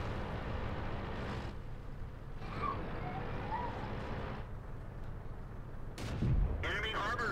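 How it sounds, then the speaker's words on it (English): A Cromwell tank's cannon in the World of Tanks video game fires a single heavy boom late in the clip over a steady low engine and battlefield rumble. "We fire a shot first, which we miss with."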